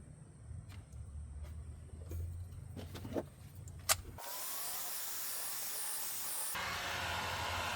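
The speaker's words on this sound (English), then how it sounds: "I'm going to get my heat gun." A heat gun switches on and blows hot air onto plastic during a golf cart battery install, a steady loud hiss of airflow that follows several small clicks and handling noises.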